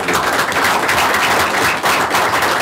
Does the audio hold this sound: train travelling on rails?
no